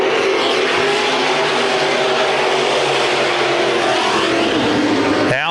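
Dirt track stock cars roar at full throttle at Adams County Speedway in Iowa during a NASCAR race. The engine noise is loud and continuous and rises in pitch near the end, with no voices over it.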